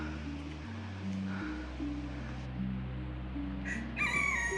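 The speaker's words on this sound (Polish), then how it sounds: "o kogut nas goni" A rooster crows outdoors on a hillside path, its call rising near the end of the clip over steady low background rumble, with no talk.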